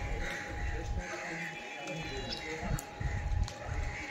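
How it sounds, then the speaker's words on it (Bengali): A flock of myna birds gathers to feed outdoors, scattered chirps and calls rising faintly over a steady background murmur with occasional louder bursts. "প্রচুর শালিক পাখি এসেছে দেখুন বন্ধুরা।"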